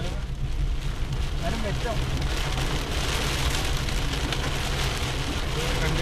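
Heavy monsoon rain pours down in Mumbai, a dense, steady hiss that holds unbroken throughout, with people talking underneath it.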